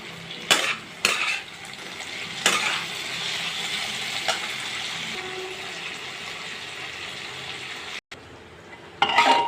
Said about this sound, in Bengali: এখানে পটল আলু ভাজি হচ্ছে